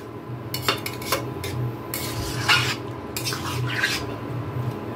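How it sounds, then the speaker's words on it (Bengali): A lid is set onto a pan of sabudana khichuri cooking on a gas stove, producing several close metallic clanks and scrapes of metal against metal, with no talking. "এখন আমি একটা ঢাকা দিয়ে দিব"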